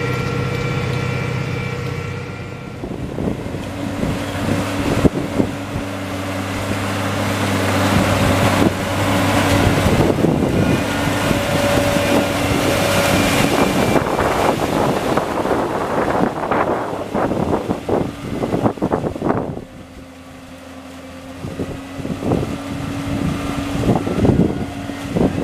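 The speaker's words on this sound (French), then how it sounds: "là le tracteur monte tout doucement en température." A New Holland T6.175 tractor engine runs steadily while warming up, giving a continuous low drone with some wind buffeting the microphone.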